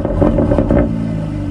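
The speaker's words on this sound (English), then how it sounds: "So I'm gonna do a quick cold start and show you guys what it sounds like." A Mercedes C43 AMG with the factory AMG performance exhaust fires up on a cold start, a loud, brief burst of engine roar and rev that settles quickly into a steady idle rumble.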